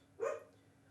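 A single short dog bark, moderately distant and somewhat muffled, rising out of a low room hum and fading quickly.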